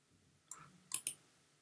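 Two sharp computer mouse clicks in quick succession, close and clear in a quiet room, made while deleting a WordPress plugin.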